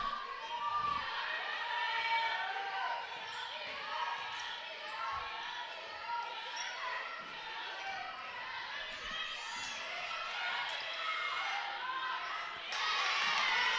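Crowd noise at a women's college basketball game between Case Western Reserve and Brandeis, a steady roar of cheering and chatter with scattered ball bounces and court sounds, surging louder near the end.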